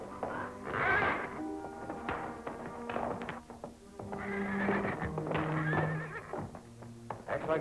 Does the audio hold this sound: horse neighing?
yes